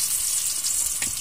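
Garlic sizzling in hot oil in a pan on the stove, a steady bright crackle throughout with a brief louder burst near the end.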